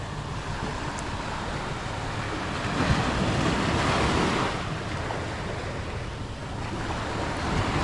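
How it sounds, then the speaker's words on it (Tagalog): Ocean waves surging onto a Boracay beach form a steady broadband wash that swells louder in the middle and then eases back, with wind buffeting the microphone throughout and no voices. "mapapakinggan mo lang rito yung mga hampas ng alon"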